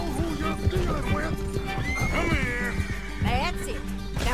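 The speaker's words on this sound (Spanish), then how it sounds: "Como mola este caballo, ¿no? Que parece una cebra." A horse in the Red Dead Redemption 2 video game whinnies loudly, with a rising then falling call, over steady clip-clop hooves and ongoing game ambience while a person talks throughout.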